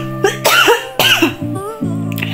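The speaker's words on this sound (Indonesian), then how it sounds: "Sampai batuk ya teman-teman," A person coughs repeatedly in short, harsh bursts, close to the microphone, with a voice in between, reacting to the pungent smell of sambal kecombrang being cooked.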